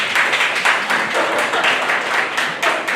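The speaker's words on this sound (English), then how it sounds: "By show of applause, if you're a cyclist and we want that moved." A room of attendees at a public meeting about a street project applauds, a dense patter of clapping hands lasting a few seconds at steady volume, fairly close.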